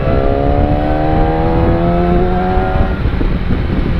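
A motorcycle engine revs as the throttle opens, a loud, buzzing drone with a rising pitch that holds for nearly three seconds before dropping into rougher rumble, near and with no talk.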